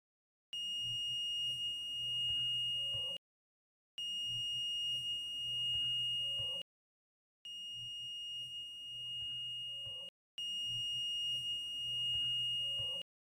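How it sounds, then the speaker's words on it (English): A multimeter on continuity mode beeps as its leads touch cable wires one by one, giving four steady tones of about two and a half seconds each, separated by short silences, faint and alone. "Place one lead of the multimeter on the reference wire, and with the other end start measuring cable by cable."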